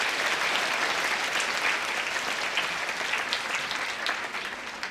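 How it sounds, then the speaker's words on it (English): Steady, dense applause from an audience welcoming students from across Asia at an interfaith event, a continuous wash of many hands clapping at even loudness throughout. "please give a big round of applause to our students from all corners of Asia"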